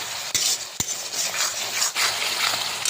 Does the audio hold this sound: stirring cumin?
yes